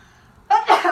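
A single sharp sneeze bursts out close by after a quiet moment, loud and breathy with a second gusty push.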